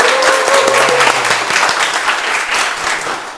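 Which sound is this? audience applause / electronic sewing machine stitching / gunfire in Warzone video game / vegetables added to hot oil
audience applause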